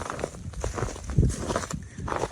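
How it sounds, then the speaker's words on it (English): Close, soft crunching footsteps tread over loose, springy wood chip mulch in an uneven walking rhythm. "That is the ground underfoot, the mulch underfoot, so to speak, because this is all wood chipped over here"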